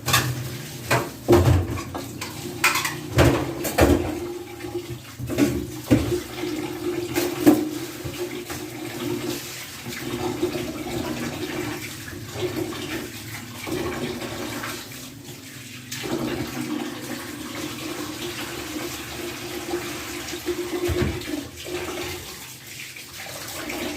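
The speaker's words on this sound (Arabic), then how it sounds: "هنغسل شويه رز وتيجوا معايا وانا بغسله" Tap water pours into a kitchen sink as rice is rinsed by hand, a continuous splashing stream with sloshing grains and the odd clink of a pot, close and steady throughout.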